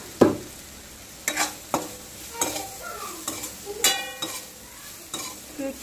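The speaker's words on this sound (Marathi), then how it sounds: "मीठ घातल्यावर अजून एकदा परतायचं, छान मिक्स करून घ्यायचं हो का." Cluster beans with salt are stir-fried as a dry village-style dish, a spatula scraping the pan in about eight distinct, uneven strokes over a light sizzle, close and clear.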